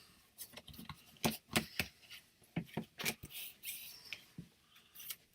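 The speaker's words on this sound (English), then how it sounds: "So here are your 8 and 21 shuffles." Tarot cards are shuffled and handled close up, giving irregular sharp flicks, slaps and papery rustles in uneven bursts over a quiet room, with no talking.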